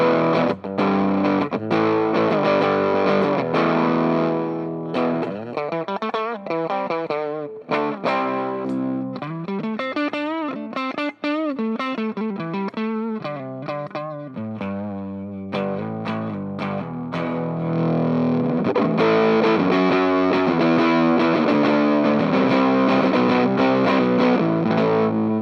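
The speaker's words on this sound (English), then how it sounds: "on the neck pickup as well, so it's a bit cleaner. We roll the fuzz off as well," Electric guitar on the neck pickup through an UnderFluked FuZR fuzz pedal with the fuzz rolled back, played as sustained chords and melodic single-note runs, loud, thick and slightly cleaner-edged, with no voices.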